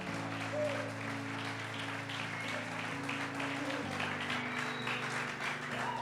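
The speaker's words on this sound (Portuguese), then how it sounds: "Aplauda o Senhor." A church congregation applauds during a worship service, with steady clapping mixed with sustained organ or keyboard chords throughout.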